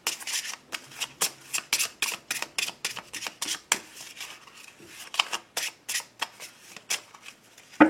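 A Lenormand card deck shuffled and cut by hand, a close series of crisp riffling bursts in a quick, fairly regular rhythm, heard alone without speech.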